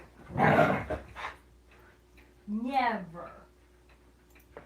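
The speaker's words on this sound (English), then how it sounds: "Do you guys ever stop playing, huh, puppies?" Husky puppies play with scuffling bursts and a short whining yelp, near and fairly loud, with quiet gaps between.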